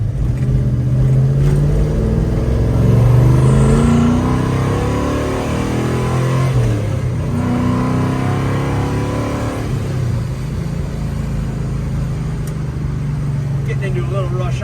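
A 1970 Chevrolet Chevelle SS 454 restomod accelerates on a highway from inside the cabin, its loud V8 engine droning and rising in pitch through the gears, with a steady roar of road and wind noise.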